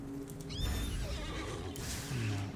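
A horse neighs in the video game Neverwinter, a loud whinny with a rising and falling pitch, followed by a lower snort and the faint clatter of hooves over background game ambience.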